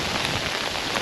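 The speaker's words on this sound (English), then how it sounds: "When it never rains, it hailstones instead." Hailstones fall hard and dense, a loud continuous pattering clatter with no pauses and no voices.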